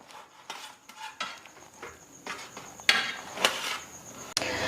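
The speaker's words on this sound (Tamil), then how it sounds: "இப்போ வந்து இந்த தக்காளி வந்து நைஸாக கட் பண்ண போகிறேன்" A knife taps and slices through tomatoes against a cutting board in an irregular series of soft chops, with a few sharper knocks near the end.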